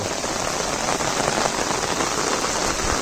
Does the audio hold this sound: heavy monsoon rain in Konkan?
yes